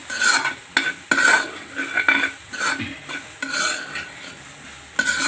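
Turmeric and masala powder frying in a pan for gobi paratha, stirred with a metal spoon that scrapes and clinks against the pan in an irregular rhythm over a soft sizzle, close and clear.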